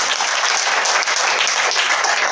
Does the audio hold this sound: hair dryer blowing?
no